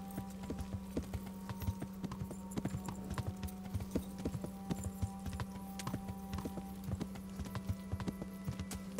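Horse hooves clip-clop steadily in the medieval video game Kingdom Come Deliverance, a brisk repeating rhythm of close hoofbeats over a low game ambience.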